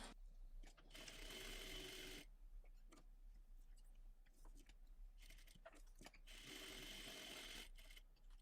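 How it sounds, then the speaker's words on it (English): A home sewing machine stitches around a zipper placement marking on a belt bag in two quiet bursts of rapid mechanical whirring, separated by a pause with faint handling clicks and no talking. "we're going to head over to our sewing machine and we are going to stitch around that zipper placement marking"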